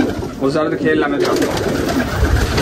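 Pigeons in a new home coo steadily and close by while someone talks over them.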